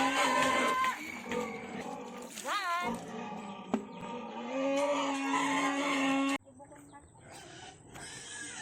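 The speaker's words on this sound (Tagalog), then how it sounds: "Ayan yung mga goat ni Kobe. Mga chicken ni Kobe. Mga pigs ni Kobe" Goats, chickens and pigs on a farm: bleating and grunting animal calls, including a rising and falling cry, mixed with people talking nearby over steady outdoor background noise.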